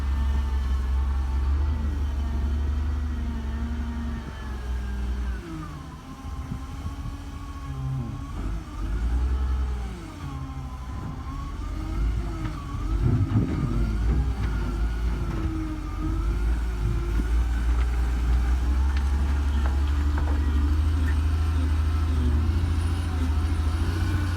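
A 650B wheel loader works at a road construction site laying laterite, giving off a continuous heavy diesel rumble whose engine pitch rises and falls as it moves. The machine noise is steady and fairly loud, with no talk.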